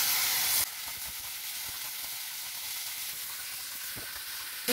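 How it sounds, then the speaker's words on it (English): Chopped tomato sizzling in a pan with onions and curry leaves, a steady bright hissing fry close by, briefly louder at the start as the tomato hits the oil, with faint stirring. "next I am adding the chopped tomato"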